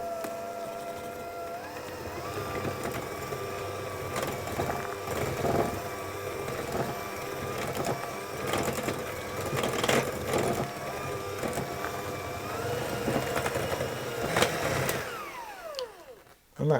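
Electric mixer creaming butter and sugar for strawberry lemon blondie batter, a steady whirring motor whine under a continuous scraping rattle that drops away abruptly at the very end.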